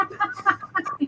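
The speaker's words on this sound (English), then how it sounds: "That's a bird." A bird, sounding like a hen or chicken, gives a quick series of short clucking calls close by, about five rapid bursts in one second.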